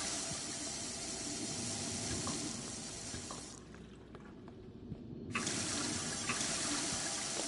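Water runs steadily from a tap in the sci-fi game Prey, a continuous close hiss that briefly drops away and then resumes at full strength.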